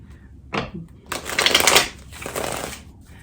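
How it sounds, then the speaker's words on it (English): A deck of tarot cards is riffled and shuffled in a few quick bursts, crisp and close, with brief pauses between. "I like to give it one more shuffle, just for good measure."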